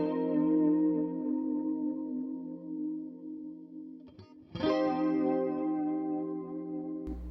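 Sustained chords on a guitar played through a ping-pong delay, the repeats bouncing between sides, ring out alone with a soft break near the middle before a fresh strum swells back in at full loudness.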